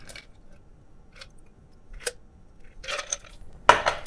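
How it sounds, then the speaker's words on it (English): A lavender rum Cuban Old Fashioned is strained over ice in a glass, with scattered soft clicks and taps of the strainer, then a louder patter and a sharp clatter near the end, close by with no talk. "I'm going to strain the drink on top of that."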